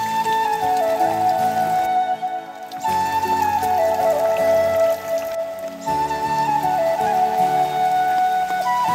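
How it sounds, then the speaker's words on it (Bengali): Heavy rain pours steadily outside a village house, a continuous wash of falling water with some steady tonal sound running through it, with no talk. "তো বৃষ্টি হচ্ছে জোরে"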